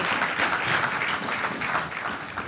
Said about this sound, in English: Clap for Jesus for setting him free.